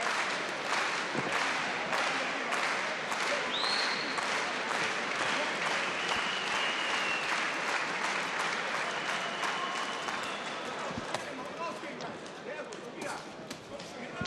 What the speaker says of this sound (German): das Publikum klatscht Beifall